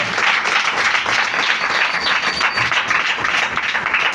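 A church congregation claps together in steady, dense applause that fills the space evenly from start to finish, with no voices rising above it.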